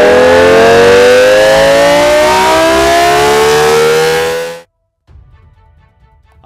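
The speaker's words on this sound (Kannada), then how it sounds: "ಬೆಂಗಳೂರಿನ 32 ಸ್ಥಳಗಳಲ್ಲಿ ಸೈರನ್ ಮೊಳಗಿತ್ತು" A civil defense siren sounds during a mock drill in Bengaluru, a loud, sustained wailing tone that holds steady for about four and a half seconds, then cuts off abruptly, leaving faint background noise.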